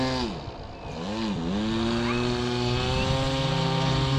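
An FMS Pitts 1400mm RC model airplane taxiing, its electric motor whining and rising and falling in pitch before settling into a steady buzz, fairly close with faint background noise.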